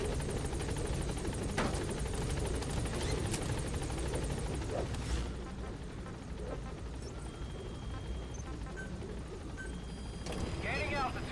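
Pequod's helicopter in Metal Gear Solid V gameplay: a steady loud rotor drone runs throughout, with scattered distant gunfire pops and game voices speaking over it.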